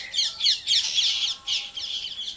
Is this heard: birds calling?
yes